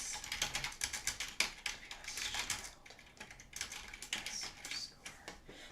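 Fast, close clatter of typing on a computer keyboard, steady bursts of key clicks with brief pauses between runs and no talk.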